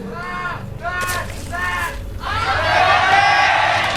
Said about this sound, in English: In the yellow, there's some fans cheering for OGS Zenio.